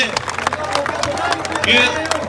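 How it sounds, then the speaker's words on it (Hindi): A crowd at a political thank-you rally in Dadri claps in scattered, uneven bursts close by, mixed with murmuring voices and someone speaking over it. "बस ताली बजा दो"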